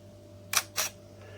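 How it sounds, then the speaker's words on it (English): The shutter of a Canon EOS RT film camera loaded with Kentmere Pan 400 fires in two quick, crisp mechanical clicks close by, with a quiet room around them. "that is the shutter sound."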